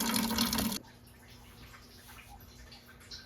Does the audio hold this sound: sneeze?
no